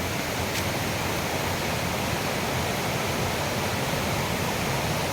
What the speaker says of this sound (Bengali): পাশ দিয়ে বয়ে চলেছে ঝর্ণা